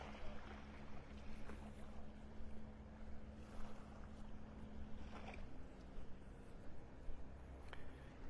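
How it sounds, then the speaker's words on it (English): A motor boat passes offshore at Delnor-Wiggins beach in North Naples, a faint steady engine hum carried over soft wind and gentle surf, distant and without talking. "I hear a boat heading out the pass here, heading towards us."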